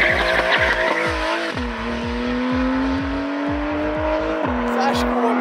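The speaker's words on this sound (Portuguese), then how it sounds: "Famoso Panamera Turbo S, rapaziada. Motor V8 biturbo." Porsche Panamera Turbo S with a remapped twin-turbo V8 accelerating hard through rapid gear changes, loud and close, with a rhythmic pulsing exhaust beat and tire squeal over it while people talk in the background.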